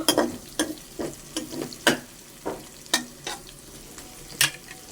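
Sliced onions frying into crisp beresta in a pan, a soft sizzle broken by regular scraping stirs of a spatula, close and steady.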